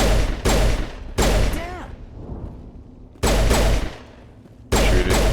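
Gunfire in Mass Effect Legendary Edition as wildlife is shot: loud, dense bursts of rapid shots in several separate volleys, with quieter gaps between them that carry a faint descending tone.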